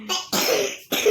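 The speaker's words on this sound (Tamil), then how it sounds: "நல்லா இருமுனீங்க பாருங்கள்." A person coughs three times in quick succession, harsh and close, with brief gaps between bursts.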